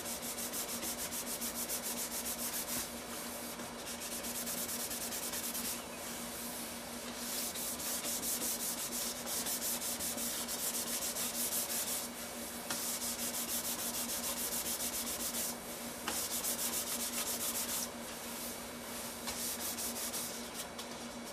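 The sprayed finish on a guitar body, a Target EM6000 coating, is sanded by hand without a block. A soft, continuous rubbing rasp goes on steadily and close with gentle stroke-to-stroke swells and no voices.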